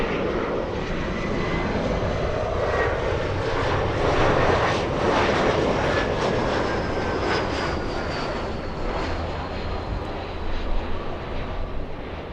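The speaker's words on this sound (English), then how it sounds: "The A321 you see flying in from Seattle, Washington." Airbus A321 jet arriving from Seattle at Los Angeles International Airport, a steady loud roar of jet engines that swells gently and holds throughout, heard up close with no talking over it.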